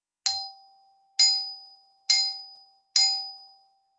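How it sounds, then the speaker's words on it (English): Four separate low notes struck on a glockenspiel, each a clear ringing metallic tone with a bright attack that decays slowly, spaced evenly about a second apart, close and alone. "if I wanted to play a low note to create a low pitch"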